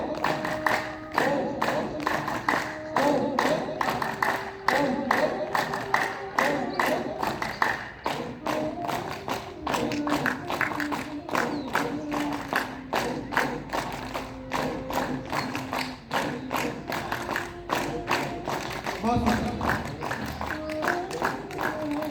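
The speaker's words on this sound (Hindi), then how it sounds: "ताली बजा करके सुंदर कंपन करेंगे हाथों का।" A group claps hands in rhythmic, repeated bursts during a yoga session, steady sharp claps that fill the space, with faint voices and a low thump near the end.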